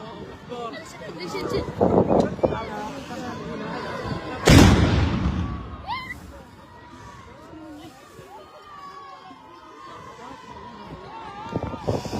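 A Ramadan cannon fires in Tetouan, Morocco, during an armed forces ceremony: one loud, sharp boom midway that rolls off into a long echo, with a crowd clapping and chattering around it and people talking.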